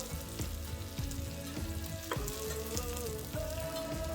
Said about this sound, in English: the reason we're pan frying it before we braise it